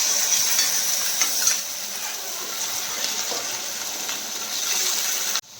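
Tomato puree fries in hot oil with onions for an egg curry, giving a continuous bright sizzle with occasional stirring scrapes before stopping abruptly at the end.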